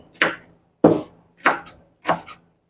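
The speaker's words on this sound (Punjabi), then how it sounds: "ਇਸ ਤਰ੍ਹਾਂ ਇਹਨੂੰ ਆਪਾਂ ਬਰੀਕ ਬਰੀਕ ਕੱਟ ਲਾਂਗੇ" A knife chops vegetables finely on a board, four crisp, separate strikes spaced about half a second to a second apart, close and clear with no talk.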